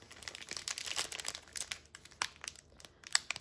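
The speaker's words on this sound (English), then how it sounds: "the drills are all in these little Ziploc bags" Small plastic Ziploc bags holding diamond painting drills crinkle and rustle up close, in quick irregular bursts of sharp crackles with brief pauses between.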